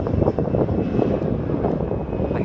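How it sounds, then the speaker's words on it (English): A fixed-wing airplane passes close overhead near Portland's industrial area by the Columbia River, a loud, steady, broadband engine roar that fills the whole stretch with no talking. "But there was a plane that was real close."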